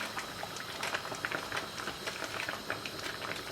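Rice boils in a pot of water for dal chawal, a soft bubbling and popping patter that rises in irregular little bursts, fairly close but quiet, with no talk over it.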